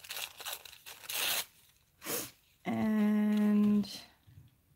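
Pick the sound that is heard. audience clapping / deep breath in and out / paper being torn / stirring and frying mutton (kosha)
paper being torn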